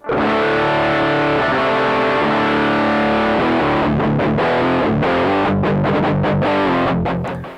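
A distorted electric guitar through a Harley Benton RockPlug Classic Rock headphone amp plays sustained chords and notes, loud and close, with a compressed, fuzzy amplified tone and a few choppy strums near the end.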